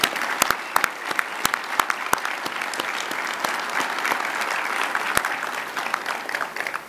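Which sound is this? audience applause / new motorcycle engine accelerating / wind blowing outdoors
audience applause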